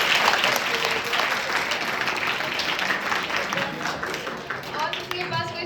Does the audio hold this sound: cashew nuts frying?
no